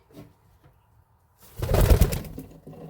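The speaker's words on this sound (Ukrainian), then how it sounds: "Зараз вам покажу ще голуби павліни" Fantail pigeons coo softly, then a louder burst of fluttering and rustling close by.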